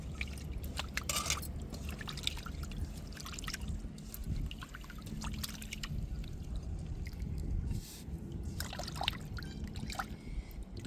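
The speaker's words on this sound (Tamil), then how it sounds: "மஞ்சத்தூளை நல்லா இப்போ தண்ணியை ஊற்றி அலசி எடுத்துக்கிடுவோம்" Water is poured over goat brain mixed with turmeric as it is rinsed by hand, giving a continuous close splashing and trickling with intermittent sloshes and drips, and no talking.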